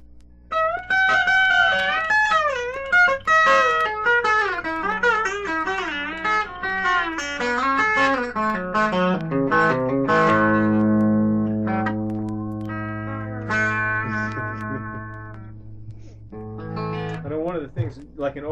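Electric guitar notes bent up into a full chord with a B-bender, giving a gliding steel-guitar effect; pitches waver and slide over sustained tones, ringing out and fading near the end, with no talk.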